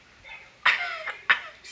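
Two short, sharp coughs about half a second apart, close and fairly loud against a quiet background.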